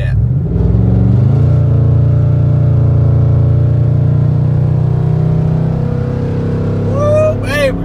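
Two cars, a 5.3 V8 and a Dodge Hellcat, accelerate hard side by side in a street race, with a loud, steady engine roar that holds for several seconds before a brief shift near the end.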